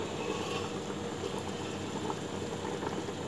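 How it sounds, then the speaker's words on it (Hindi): Water rolls at a steady boil in a pot while chicken biryani is cooked, a continuous close bubbling and hiss with no pauses and no talk. "अब ये पानी खौलने लगा है,"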